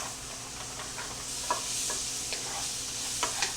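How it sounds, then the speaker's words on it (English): Steady sizzling hiss of carrots frying in plenty of butter in a pan, with small pops and stirring scrapes scattered throughout. "Lots of butter. I'm going to bring this to a sizzle."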